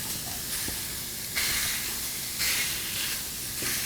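Extra lean hamburger meat sizzles in a skillet over lowered heat, a steady close hiss that swells in a few short bursts, with no talking.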